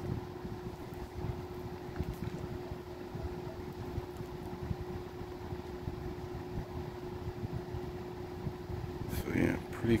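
A Lakewood 200 electric fan runs on its low speed, giving a steady, fairly quiet motor hum with a soft airy rush. A brief louder bump of noise comes near the end.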